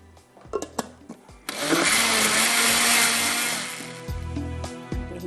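A kitchen blender whisks yogurt for a Hyderabadi curry, a loud whirring motor burst of a few seconds framed by clunks and handling knocks before and after.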